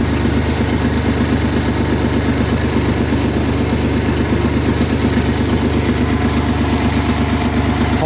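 A tractor's diesel engine idles steadily in cold weather, a loud close rumble with a fast even chug that holds unbroken throughout, with no voices over it.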